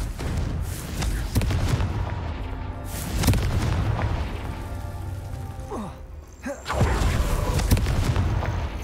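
A Confringo spell explodes in the video game Hogwarts Legacy, with several booming blasts and crackling bursts over a rumbling game soundscape, loud and close.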